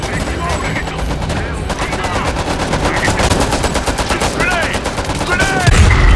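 Gunfire in Homefront: The Revolution on PS5: loud, dense, rapid automatic fire that rattles continuously, with a few ricochet-like whines over the top and a heavy thump at the end.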